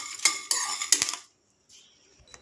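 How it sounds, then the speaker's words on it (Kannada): Curry leaves are dry roasted in a metal pan on a stove, with a spatula scraping and clattering in three quick bursts, then a pause and faint clinks. "ಹಾಕ್ಕೊಂಡು ನೀಟಾಗಿ ಇದನ್ನು ಡ್ರೈ ರೋಸ್ಟ್ ಮಾಡ್ಕೋಬೇಕು."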